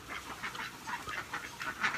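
Muscovy ducks on a small free-range chicken farm give soft, rapid quacks and chatter in a steady stream, fairly faint and at moderate distance, with no voices over them.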